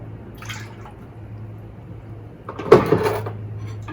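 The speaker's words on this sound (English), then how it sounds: "I'm gonna get another 2 tablespoons of water in there" Two tablespoons of water are added to a Thai salad dressing aboard a boat: a quiet low hum, then a brief close splash and clatter as the water goes in.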